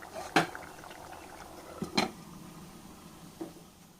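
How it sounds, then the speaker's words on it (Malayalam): Soft bubbling of a cauliflower curry simmering on low flame in a covered pot, with a few sharp clinks of a lid or utensil breaking through the low, steady background. "ഇപ്പോൾ നമ്മളെ കറി നല്ലപോലെ തിളച്ച് നല്ല മണം വരുന്നുണ്ട്"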